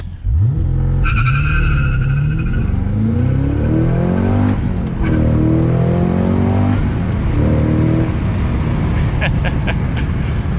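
A 2022 Cadillac CT5-V Blackwing with a manual gearbox launches under launch control, its engine revving hard and tires squealing as it accelerates through rising gear pulls, loud and close throughout.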